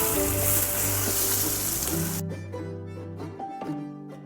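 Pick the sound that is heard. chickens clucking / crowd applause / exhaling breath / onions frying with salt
onions frying with salt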